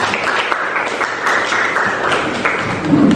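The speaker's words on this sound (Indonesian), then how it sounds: "tepuk tangan untuk Talita." A classroom full of people claps steadily for a few seconds, a dense patter of hands that holds an even level throughout.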